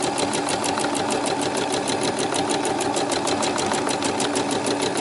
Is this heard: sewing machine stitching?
yes